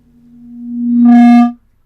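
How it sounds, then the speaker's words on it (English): Sustained feedback loop from a Syntrx reverb tank through speakers: a single tone swells steadily over about a second and a half, blooming into a bright, harmonically rich howl before cutting off abruptly. "we get this long sustained feedback"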